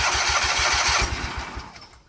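Kohler KT17 engine on a Bolens 1700H tractor cranking and catching on choke, a rapid rhythmic chugging of about a dozen beats that fires up, then fades and trails off within two seconds, close and alone.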